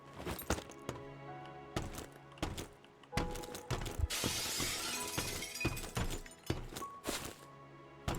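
Window glass shattering under a forcible entry tool in the Firefighting Simulator video game, a burst of breaking glass followed by scattered tinkling fragments among repeated sharp impacts and clatter.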